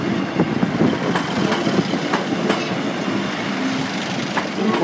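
A Class 156 diesel multiple unit, number 156414, running Nottingham to Skegness, rumbles past close by at a level crossing with rhythmic wheel clicks over the rails and a steady loud roar throughout.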